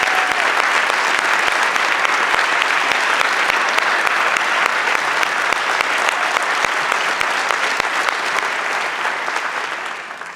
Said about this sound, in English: If we could give them the spotlight and a standing applause.